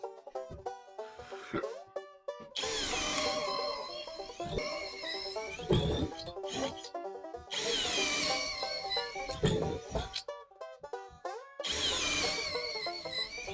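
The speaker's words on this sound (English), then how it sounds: "Started off with a 3/8 of an inch Bosch paddle bit." A Dongcheng cordless drill bores through 2x lumber with a 3/8-inch Bosch paddle bit, loud close whining bursts of drilling separated by short pauses.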